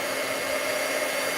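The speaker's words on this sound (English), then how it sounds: "now I'm going to emboss this really quick" A heat tool blows a steady, even whirring hum while melting embossing powder on a stamped card, held close and constant without pauses.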